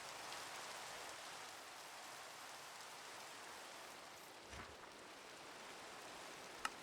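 Soft, steady hiss of rain falling, faint and even throughout with a brief louder patter near the end and no voices.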